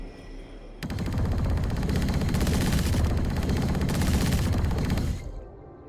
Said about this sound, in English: Things like gunshots are audible but very muffled, and footsteps are basically silent.